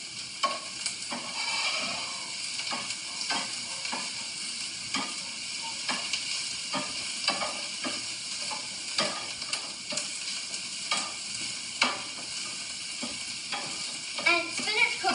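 Spinach seasoned with crushed black pepper sizzles steadily in a pan while being stirred, with repeated scraping strokes and soft clicks of the utensil over a constant frying hiss; no voices.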